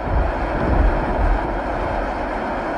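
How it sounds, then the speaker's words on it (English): A heavy, continuous rumbling roar of a tornado's powerful wind on the ground in Norman, Oklahoma, loud and steady throughout with deep low-end turbulence. "Massive wind tornado on the ground in Norman, Oklahoma."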